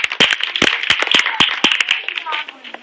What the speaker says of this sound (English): Let's give Warren another round of applause